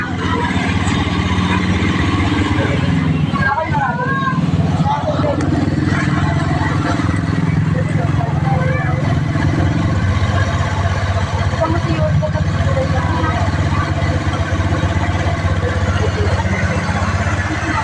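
A motorcycle engine runs steadily and loudly throughout, with a continuous low rumble, while people talk nearby.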